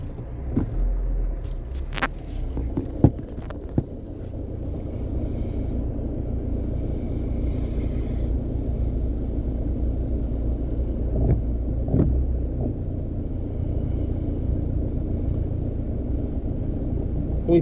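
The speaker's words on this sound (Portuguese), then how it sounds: "atravessando a terceira ponte, trânsito complicado, estreitamento de pista," Cars creep across the Terceira Ponte bridge in slow, congested traffic, giving a steady low engine rumble with a few sharp knocks and clicks near the start and no talk.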